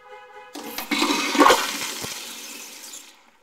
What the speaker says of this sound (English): And one more flush. One more flush. Okay, these are water saving dual flushers.